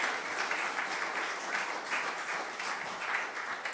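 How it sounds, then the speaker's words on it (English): Sustained audience applause fills a tech forum hall, a dense steady wash of clapping with slight swells, no voices rising above it. "Please give a round of applause for Mr."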